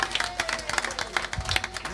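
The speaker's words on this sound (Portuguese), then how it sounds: "uma salva de palmas para a nossa cultura" Scattered clapping from a small group, uneven and fairly quiet, with crowd murmur underneath.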